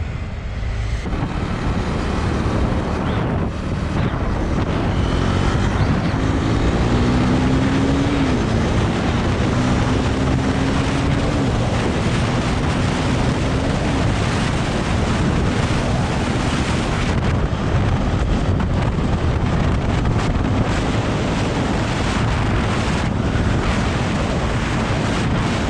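Riding a 2024 Husqvarna Svartpilen 401 motorcycle, a loud continuous roar of wind buffeting the microphone masks a rising and falling engine note throughout.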